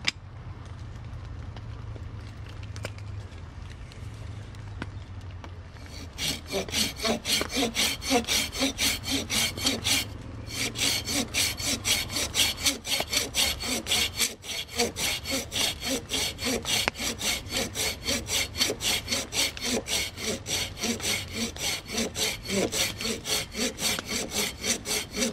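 A Silky 170-8 hand saw cuts through wood in quick, steady push-pull strokes, a close rhythmic rasping that begins after a few quiet seconds and continues evenly to the end.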